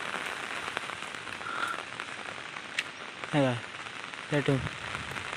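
A loud, unbroken roar of heavy monsoon downpour in Konkan fills the air nearby, while someone speaks two short bursts partway through.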